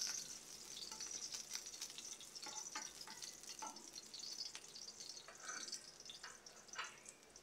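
Ginger sizzling in a hot pan for Filipino ginataang sitaw, a steady close hiss of frying with scattered crackles and a few stirring scrapes, no talk.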